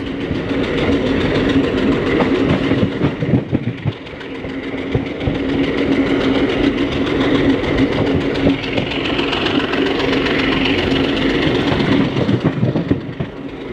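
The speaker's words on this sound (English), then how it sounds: "The chugging of the WDP-1 locomotives are a little bit different from the regular WDM-3A or WDG-3A locomotives." A WDP-1 diesel locomotive hauls the Circar Express between Kakinada and Vijayawada, its steady tractor-like engine chugging loud and close over continuous rolling rail noise and wheel clatter.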